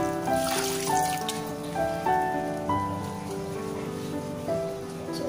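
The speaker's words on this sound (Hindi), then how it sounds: "इसके ऊपर थोड़ा सा हम ठंडा पानी डालेंगे जिससे नूडल आपस में चिपकेंगे नहीं" Cold water splashes steadily over boiled noodles in a sieve set above a pot, a close, continuous pattering pour, with background music playing over it.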